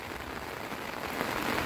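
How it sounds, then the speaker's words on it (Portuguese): Heavy rain pours steadily at a reservoir dam, a dense, even hiss of drops on surfaces that holds close and loud throughout with no voices. "Chuva, muita chuva, graças a Deus."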